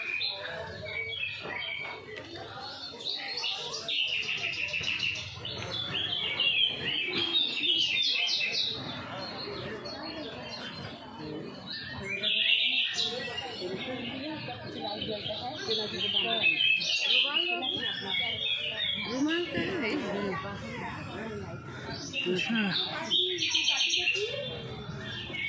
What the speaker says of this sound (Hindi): इसमें चिड़ियाँ है बहुत सारा